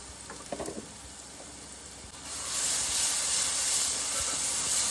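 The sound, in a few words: chicken with masala and salt frying in oil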